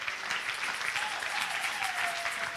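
A church congregation gathered for a Sunday service claps steadily, a continuous crowd of many hands applauding at moderate volume, with a voice faintly rising over the clapping.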